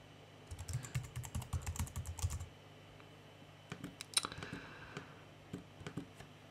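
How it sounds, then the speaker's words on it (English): Someone types text on a computer keyboard while designing for laser cutting in Illustrator: a quick burst of rapid keystrokes, then a pause and slower, scattered key taps and clicks, close and fairly quiet. "click anywhere and just start typing some text."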